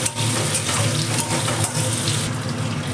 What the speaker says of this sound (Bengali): দুটো একসঙ্গে ভেজে নিচ্ছি।